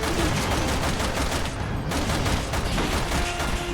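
Dense, continuous gunfire from the Resident Evil 6 video game, rapid overlapping shots forming a loud, unbroken barrage throughout with a brief dip in the middle.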